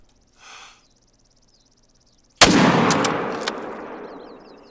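A single loud rifle shot fired at a Gredos ibex in theHunter Call of the Wild, a sharp crack that rolls off into a long fading echo across open mountain terrain after a faint breath just before it.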